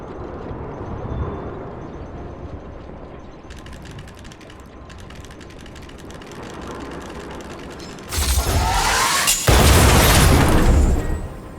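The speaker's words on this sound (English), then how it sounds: "We wiped them all out in a single explosion!" Explosion in Honkai Star Rail: ratcheting mechanical clicks and creaks build up, then a loud bright burst of blast noise with a short cut and a second roaring surge, no voices.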